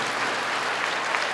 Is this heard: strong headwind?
no